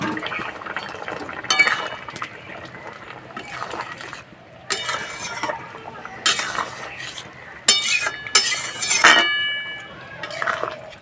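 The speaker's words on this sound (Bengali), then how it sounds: "আলু সিদ্ধ হয়ে গেছে, ভেজে রাখা মাছ দিয়ে দেবো।" Fried kalbaush fish pieces go into a simmering potato curry, with clinks of a utensil against the pot, liquid sloshing and bubbling, and a few louder clatters in bursts.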